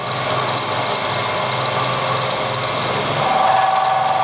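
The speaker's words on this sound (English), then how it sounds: "a 100 thou cut on stainless is a pretty good indication of whether the cutter's going to work or not" A carbide milling cutter taking a heavy 100 thou cut in stainless steel on a milling machine, a steady, loud grinding drone with a constant machine hum and a thin whine emerging near the end.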